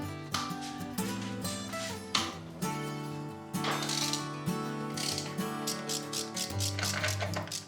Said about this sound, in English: going to get my tool and see if I can break this nut loose